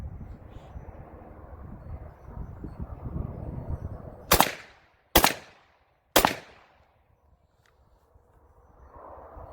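A Polish Tonsil 5.45x39 rifle fires three loud, sharply separated rounds outdoors, each with a short decaying echo, after a stretch of low background rumble and handling.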